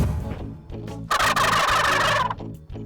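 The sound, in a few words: wild turkey gobbling in the distance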